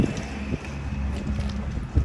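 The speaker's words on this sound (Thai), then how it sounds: "ลมแรงมาก" Strong wind gusts across open rice fields, buffeting the microphone with low, uneven rumbles and bursts over a few seconds.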